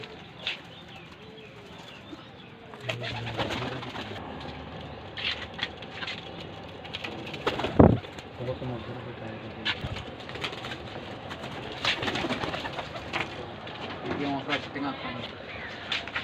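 Racing pigeons on a rooftop coo softly and repeatedly in the background, mixed with scattered bird calls, rustling and occasional voices nearby.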